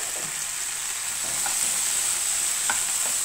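Boiled beetroot sautés with onion and curry leaves in a pan, a loud, continuous sizzle running throughout with a couple of light stirring taps.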